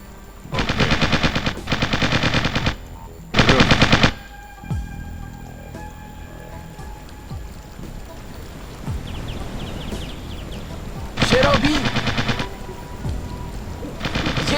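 Gunfire from the video game Original War: several loud sustained machine-gun bursts rattle in quick succession, then a quieter stretch of scattered distant shots and ambient rumble before another heavy burst near the end.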